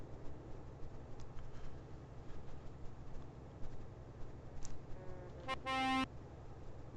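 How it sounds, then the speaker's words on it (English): Semi-truck horns from Euro Truck Simulator 2 blare in two quick blasts near the end, over a steady, low engine drone in the cab. "a lot of people will honk the horns as soon as they drive past you"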